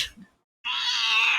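A house cat lets out a single drawn-out meow, close and clear, after a brief quiet gap.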